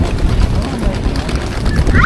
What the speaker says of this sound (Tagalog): Oh, pato!